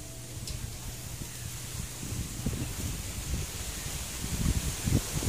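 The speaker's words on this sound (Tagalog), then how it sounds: "Oh, lakas ng hangin oh." Strong wind sweeps through banana plants and bamboo in rural Quezon province, a steady airy rush with rustling leaves and low gusty rumble building toward the end, no voices.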